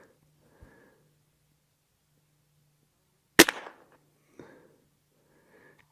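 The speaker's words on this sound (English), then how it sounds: "See if we still get that supersonic crack." A Gamo Swarm Magnum .177 air rifle fires once with a single sharp, loud supersonic crack in an otherwise quiet setting, followed by a short tail and a couple of faint small knocks.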